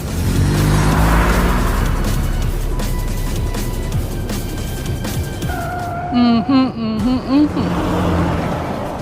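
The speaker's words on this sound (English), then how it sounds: "The car emerges from the tunnel and races through the street of the killing zone." Game car in Love and Deepspace racing out of a tunnel and through city streets, a loud steady engine roar with passing whooshes and a rising tonal whine near the end, mixed with background game sounds.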